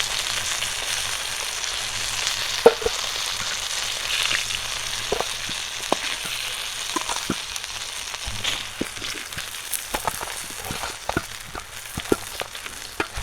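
Pangas fish pieces fry in hot oil with a continuous close sizzle, scattered sharp pops and crackles breaking through, and no voices.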